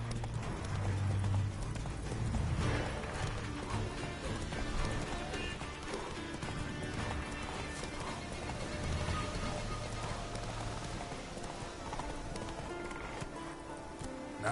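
Horse hooves clip-clop steadily in The Witcher 3 video game, a continuous rhythmic trot with occasional snorts, moderately loud over ambient game sound.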